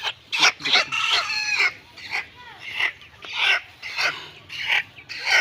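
Chickens cluck and squawk repeatedly at close range on a poultry farm, a busy run of agitated calls in uneven bursts with little pause between them.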